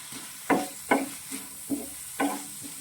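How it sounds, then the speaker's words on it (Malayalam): Vegetables seasoned with salt and pepper are sautéed in a pan for noodle dosa, with five distinct scraping stirs over a soft, steady sizzle. "ഇത് നന്നായിട്ട് നമുക്ക് വഴറ്റിയെടുക്കാം"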